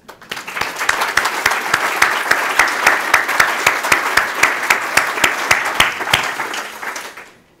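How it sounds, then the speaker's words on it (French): Assembly audience at the close of a symposium applauds in a sustained wash of clapping, with a steady rhythmic beat of synchronized claps running through it, fading out at the end. "je vous applaudis avec l'Assemblée"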